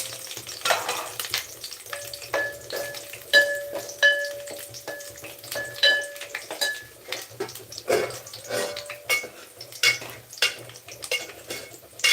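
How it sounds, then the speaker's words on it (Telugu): Green chillies, curry leaves and peanuts fry in a pan for a home amaranth curry, a close crackling sizzle with scraping stirs and metal pan clinks throughout. "పచ్చిమిర్చి కరివేపాకు అలాగే పల్లీలు వేసి వేయించుకుంటున్నాను"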